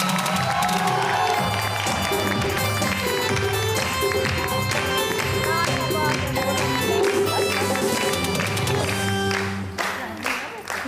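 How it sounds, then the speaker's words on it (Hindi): A television studio audience on an entertainment show claps and cheers over loud background music, with the crowd noise blended into the music throughout and easing off at the very end. "तो आपकी बहुत सारी तालियों में नाहिद अंसारी।"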